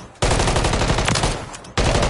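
Rapid automatic gunfire in Call of Duty: a dense, loud burst of shots lasting about a second and a half, a brief break, then firing starts again.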